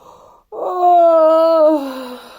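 A storyteller imitates a wolf yawning, opening with a sharp intake of breath and then a long, loud, drawn-out voiced moan that slowly falls in pitch and fades. Nothing else is heard.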